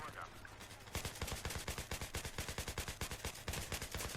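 Rapid automatic gunfire from a Battlefield 3 match on the Elbrus mountain map, a long near burst of evenly spaced sharp cracks after a brief quieter lead-in, with a few faint earlier shots.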